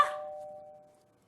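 A single electronic doorbell chime rings once indoors, a bright struck tone that rings out and fades over about a second.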